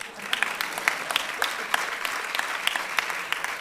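Audience applause at a Hindi televised public-forum show with a spiritual teacher, a steady close clatter of many hands clapping across the whole stretch, with no talk over it.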